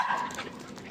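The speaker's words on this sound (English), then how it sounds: "Or barking at me." A dog gives a single short, faint bark or yip, heard alone in a quiet room.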